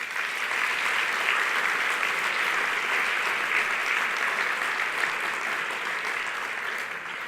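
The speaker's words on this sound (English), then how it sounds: "Let's give them a round of applause." Audience applause fills a student awards banquet hall, steady dense clapping from a crowd that holds for about seven seconds before tapering slightly at the end.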